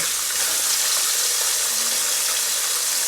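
Fish fillets frying in a pan, a steady, close, bright sizzle of hot oil crackling without pause.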